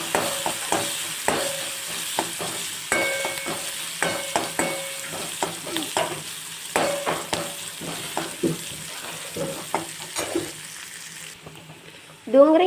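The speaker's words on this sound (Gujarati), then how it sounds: "હવે ડુંગળીને હું ગોલ્ડન બ્રાઉન સુધી કૂક કરી લઈશ" About half a cup of sliced onions fry toward golden brown in a pan for masala dosa, giving a steady sizzle broken by frequent spatula scrapes and clinks against the pan, with a brief different noise at the very end.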